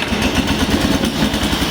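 VODEXS VDTK-850 remote-controlled slope mower's small petrol engine running just after a remote start, a steady close rumbling putter with rhythmic low pulses, loud and alone.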